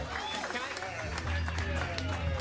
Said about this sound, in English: Clap it up as loud as you can for Casey James Salengo.